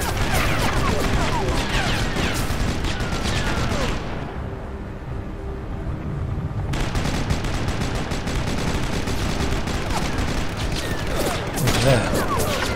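Gunfire in the Sniper Elite video game, dense close bursts of shots and impacts, pausing briefly midway before resuming, with speech mixed in.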